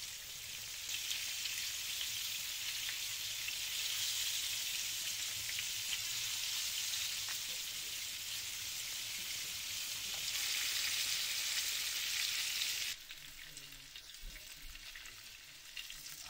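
Battered green moray eel pieces fry in hot oil with a steady, dense sizzle that holds for about thirteen seconds, then drops to a quieter, more irregular crackle as the pan settles.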